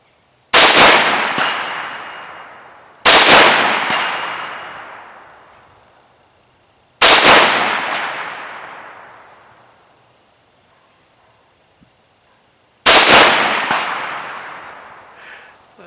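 Four loud, sharp rifle shots from a 6.5 Grendel firing 90 grain TNT ammunition, each cracking then ringing out in a long decaying echo, spaced several seconds apart.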